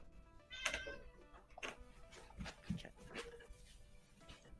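A cat in a video game meows a few times against quiet background noise, with short bright cries spaced irregularly and a faint low rumble between them.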